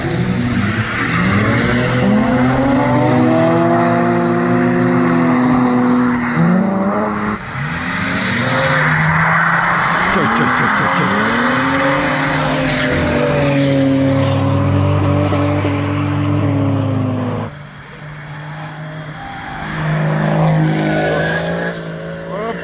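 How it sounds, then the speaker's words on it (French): Cars drifting past on a track, with loud engines revving up and down, long tire squeals and screeching skids that continue throughout, close and intense, with occasional voices in the background. "Petite combine de petites voitures qui passent, régalez-vous bien"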